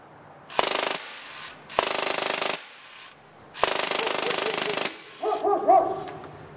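A Drozd Blackbird BB gun firing full auto at 1,600 rounds per minute, heard as three loud, close bursts of rapid buzzing fire separated by short pauses, followed by brief faint squeaky rattling.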